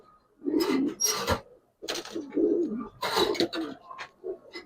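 Giribaz and coloured pigeons coo in a series of close, repeated throaty calls with short pauses between bursts, no voices over them.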